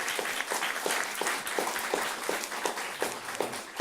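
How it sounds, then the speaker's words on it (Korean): A church congregation applauds its teachers with a full, continuous burst of clapping that holds at a steady level, with no voices standing out. "선생님들을 위해서 박수를 한번 쳐주셔야 됩니다"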